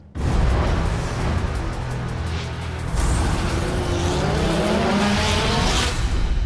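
DTM touring race cars launch at the start of a race at Moscow Raceway in 2013, a loud, dense roar of many engines building and revving together, with a fresh surge of rising engine notes about halfway through.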